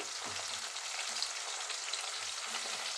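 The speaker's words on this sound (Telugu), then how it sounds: "ఇప్పుడైతే ఫ్రై చేసుకుందాము టమాటాలు వేసుకుందాము" Onions and tomatoes fry in a pan for a fish curry, a dense continuous sizzle with faint stirring scrapes, close and steady throughout.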